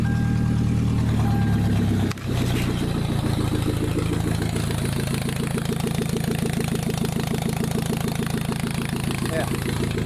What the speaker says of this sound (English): It does have a rod knock and it's down on power because of it